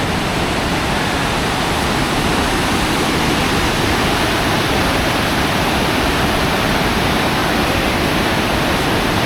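A waterfall in Idaho, fed by water emerging straight out of a mountainside, pours with a constant, loud broadband hiss and roar that never lets up, heard alone without speech.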